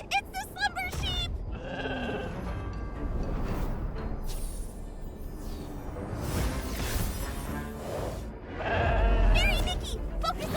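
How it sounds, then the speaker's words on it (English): Slumber sheep in the video game Infinity Nikki bleat in several wavering calls, loud and close, mixed with game sound effects and a musical score, with speech in between. "Ah, it's the slumber sheep!"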